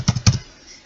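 Two quick keystrokes on a computer keyboard, tapped close and crisp in rapid succession, then quiet.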